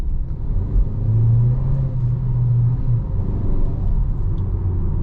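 Geely Coolray 2024 1.5 turbo engine under throttle in sport mode during a night drive, a deep steady rumble that swells briefly then settles, continuous cabin drone with no talking.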